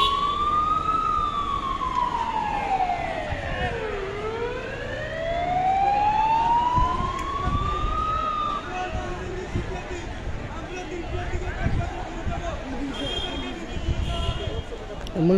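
Ambulance siren wailing in slow rising and falling sweeps at a road junction blocked by student protesters, loud and close at first, then fading out, with crowd noise and voices continuing underneath.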